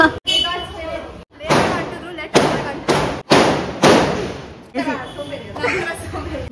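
Several sharp Deepavali firecracker bangs burst one after another, each followed by a brief crackling decay, loud and close with short gaps between.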